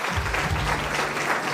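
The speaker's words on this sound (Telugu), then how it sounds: "ఒక్కసారి చప్పట్లు పెట్టి అమ్మాయిని అభినందిద్దామా?" Guests at a Christian wedding break into applause for the bride, a dense burst of clapping from a crowd heard close and steady throughout the short moment.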